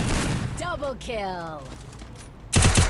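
Gunfire in the mobile game Free Fire, a short burst of rapid shots landing near the end after a stretch of quieter game sounds and tones, loud and close, with a voice briefly heard earlier.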